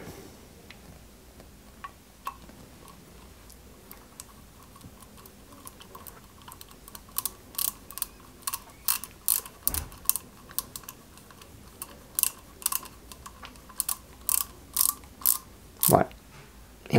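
Screws driven into a 1/8-scale Ferrari 330 P4 model kit, giving a dense run of sharp clicking, ratcheting ticks that start sparse and build into rapid bursts, close and fairly crisp against a quiet room.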